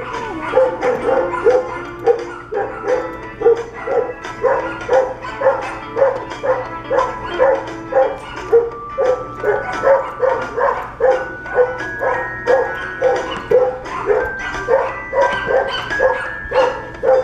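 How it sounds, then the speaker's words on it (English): Neighbours' dogs bark repeatedly from a short distance, a steady run of rhythmic barks with occasional yips, moderately loud and unbroken by talk. "Neighbors' dogs."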